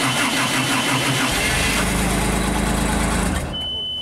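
A carbureted JLG scissor lift engine turns over and catches, runs roughly for a couple of seconds, then stalls out and falls nearly silent near the end.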